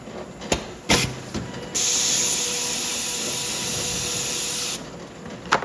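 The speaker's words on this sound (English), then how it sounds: "So I'm going to turn the printer on and it's going to print." A SP800 packaging system printer switches on with a few sharp clicks, then runs a loud, steady hissing whir for about three seconds before stopping with another click.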